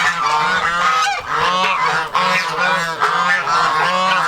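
Geese honk loudly and close by at a backyard pond with goslings nearby, giving repeated overlapping nasal calls in an uneven rhythm throughout.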